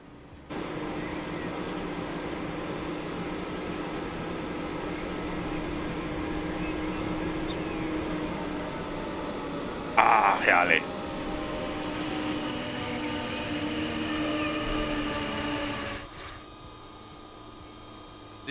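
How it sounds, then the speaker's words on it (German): A train rolls into a station in Transport Fever 2, a low steady rumble and drone holding for many seconds with a brief brighter chime partway through before the noise cuts off abruptly. "Und da kommt jetzt der eine Zug."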